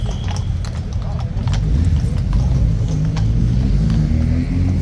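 Racehorse Ormonde's hooves clip-clop in a steady rhythm as he arrives, under a loud crowd rumble and nearby talking, with a brief whinny-like sound.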